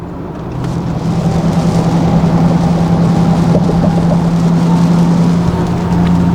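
A car with an aftermarket exhaust, stock mufflers removed, runs very loud, a steady droning engine and exhaust roar that fills the whole stretch without letting up, heard close with no voices.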